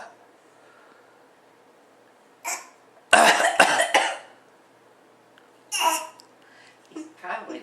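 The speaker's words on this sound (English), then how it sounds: "Can we hear you fake coughing?" A young child fake-coughs indoors in several short, harsh bursts: one quick cough, then a cluster of loud coughs, then two more later. Quiet babbling-like vocal sounds fill the gaps.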